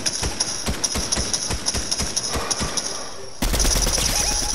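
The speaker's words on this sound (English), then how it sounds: "I just randomly shot that dude right there for like 23 times" Rapid bursts of automatic gunfire from a multiplayer shooter video game, sharp repeated shots rattling off in quick clusters, ending in a louder, denser stretch of firing and game noise.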